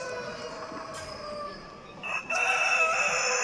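A rooster crows at a national poultry exhibition, its loud drawn-out call rising clearly over a busy hall ambience of other birds and background noise.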